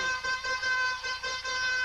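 A loud, sustained air horn blares with a pulsing tone in a football stadium, its long blast echoing over a noisy crowd.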